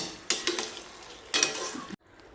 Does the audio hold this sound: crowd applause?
no